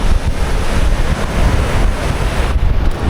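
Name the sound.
waves on Kuantan beach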